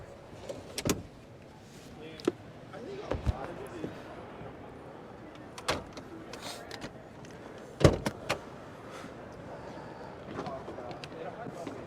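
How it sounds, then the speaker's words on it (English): A Volkswagen ID Buzz electric van's door shuts with a solid thud among scattered clicks and knocks of the cabin, while a voice talks intermittently. "To close the door, there's a little handle inside the handle that you just press there."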